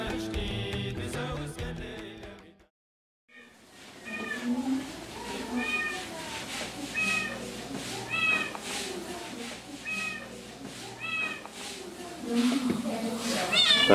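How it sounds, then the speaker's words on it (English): A house cat meows repeatedly after a brief pause, a series of distinct meows, some drawn out, spaced a second or two apart, and a person talks beforehand. "That's the cat."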